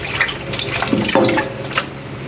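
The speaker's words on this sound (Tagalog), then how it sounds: "Ngayon, maghugas na naman tayo ulit." Tap water runs steadily into a kitchen sink during hand washing after mashing rice while cooking lunch, a continuous moderate splashing rush with no talk over it.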